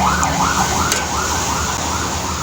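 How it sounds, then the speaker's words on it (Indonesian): A wailing ambulance siren passing near a house rises and falls in repeated sweeps, steady and fairly loud over a low road rumble, with no voices. "Ada ambulan lewat dekat rumahku"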